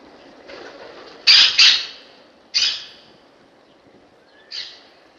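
A pet bird on a back patio gives several sharp, loud squawking calls, a close pair, then another, then a softer one, with quiet between.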